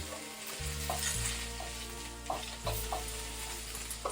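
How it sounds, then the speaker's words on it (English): Cabbage and other vegetables sizzle in a hot pan while being stir-fried, a steady close crackle with occasional stirring scrapes and bursts, no talking. "So you really want to hear it sizzling,"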